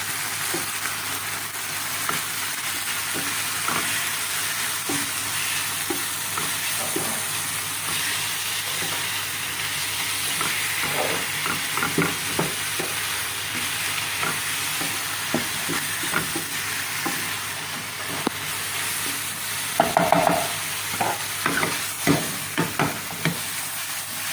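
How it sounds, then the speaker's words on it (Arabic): Chicken pieces frying and searing in a hot pan for chicken sandwiches, a steady broadband sizzle with scattered crackles and occasional stirring scrapes, loudest near the end, with no voices. "نخليو هادشي كيتشحر مزيان، منخليوش فيه الماء"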